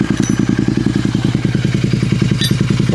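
A Royal Enfield GT 650 with an SSP exhaust idles up close, a loud, bassy, evenly thumping beat throughout with no one speaking.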